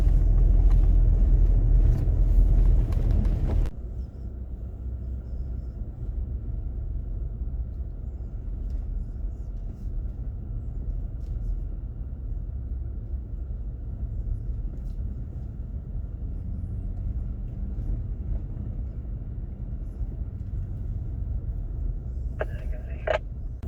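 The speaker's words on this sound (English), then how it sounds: "we're just driving down the track" A GWM Cannon 4x4 drives down a track in the Victoria High Country, with a steady low engine and tyre rumble heard from inside the vehicle after a louder burst at the start, and faint clatter near the end.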